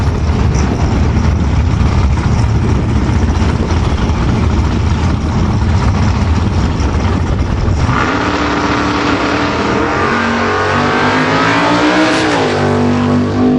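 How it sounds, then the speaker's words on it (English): A 1967 Chevy Camaro and a first-generation Pontiac Ventura launch off the line in a drag race, their engines a loud, continuous roar that shifts in character partway through, with revs climbing toward the end. "So it's first-generation Camaro against first-generation Pontiac Ventura."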